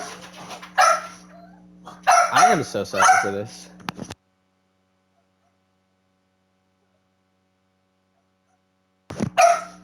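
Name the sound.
dogs barking, wanting to go outside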